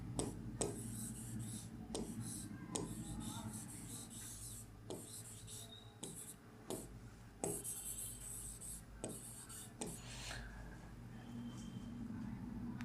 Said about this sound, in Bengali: আমি দুটো সংখ্যা লিখছি